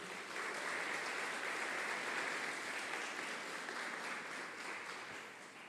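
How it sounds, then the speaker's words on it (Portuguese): Church congregation clapping for the Lord during an evening service, a broad, continuous roar of applause lasting several seconds, steady then gently fading, heard alone without speech. "Será que você pode aplaudir o Senhor mais uma vez?"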